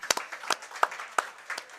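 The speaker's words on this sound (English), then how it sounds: "Y'all give yourselves a round of applause" A small crowd at a Huntsville coaches show gives a sparse round of applause, a handful of distinct, fairly close claps spaced out rather than a dense roar.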